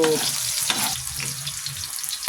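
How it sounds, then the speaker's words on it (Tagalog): Ginger sizzles and crackles in hot oil in a pan, a loud, close, continuous frying hiss with a few small stirring ticks and no voices. "Unahin natin yung ating luya hanggang sa lumabas yung kanyang aroma."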